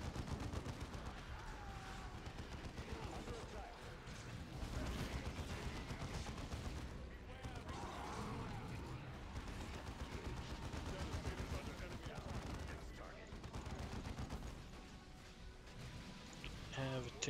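Artillery strike and gunfire in Warhammer 40k: Dawn of War 2 battling Tyranids, dense continuous rattling bursts and booms layered with battle noise and voices throughout.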